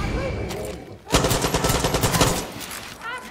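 Rapid automatic gunfire in the video game Far Cry 6, a dense close burst of shots lasting over a second amid game ambience, then trailing off.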